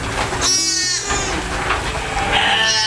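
Newborn lambs less than a day old bleat on a sheep farm, several wavering cries overlapping close by with steady farmyard background and no talk.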